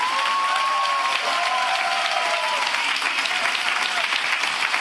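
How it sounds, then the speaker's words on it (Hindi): Church congregation clapping together in steady, dense applause, loud and continuous throughout with no voices standing out. "क्या हम यीशु के बहाए हुए लहू के लिए एक अच्छी ताली बजा सकते हैं?"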